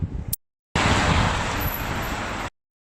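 Steady street traffic in Newark on Trent, a broad roar of passing cars and heavier vehicles, brief at first, then a gap, then nearly two seconds of continuous road noise fairly close by.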